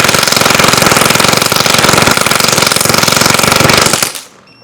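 Paintball marker fed by a CRBN DRV loader firing a rapid, continuous stream of shots, a loud buzzing rattle of evenly spaced pops for about four seconds before cutting off abruptly into quiet.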